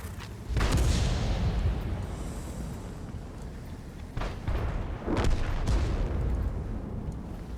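Artillery fire in World of Tanks: several heavy booming blasts, one near the start and a cluster of deep thuds later, each trailing into rumbling roar over a continuous low background.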